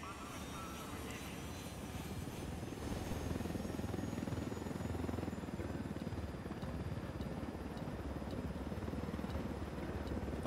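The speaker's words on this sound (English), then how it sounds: "We got the chopper and we're inbound." A helicopter in the video game Ghost Recon Wildlands thrums with a steady rotor and engine drone that grows louder partway through and holds, close and continuous.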